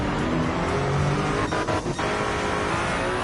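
A hypercar racing at Le Mans in Gran Turismo, a loud continuous high-revving engine roar with a brief dip like a gear shift or passing car midway, no talk.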